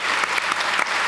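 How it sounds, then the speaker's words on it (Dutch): Applause from a studio audience greeting a guest on a Dutch interview show, a short steady burst of many hands clapping close and loud with no voices over it. "geef een warm applaus onze gast vandaag"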